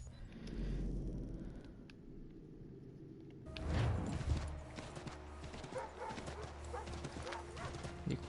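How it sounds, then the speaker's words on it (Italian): Horse hooves clip-clop in Assassin's Creed 3, a steady near rhythm of steps starting partway through over game ambience and low rumble, with brief quiet talk early on. "Sto andando fino a qui per prendere un cavallo"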